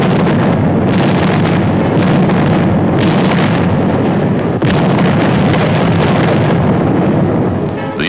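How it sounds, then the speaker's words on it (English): Artillery fire at the front in France, August 1944, during WWII: a loud, continuous broadband roar of guns and blasts, with one sharp crack near the middle and no voices. "the enemy was kept off balance with our artillery fire"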